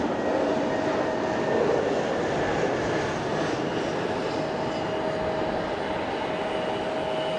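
A Peach Aviation airliner at Fukuoka airport gives off a continuous engine roar with a faint steady whine running through it, and no one speaks.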